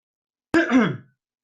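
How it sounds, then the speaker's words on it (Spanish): A single short throat-clearing cough, close and fairly loud, in otherwise silent surroundings. "me había dado tos"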